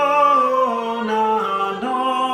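Recorder plays a slow, sustained melody line of Dona nobis pacem, clear and close, with smooth steady tones and no talking.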